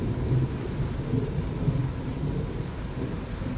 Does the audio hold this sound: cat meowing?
no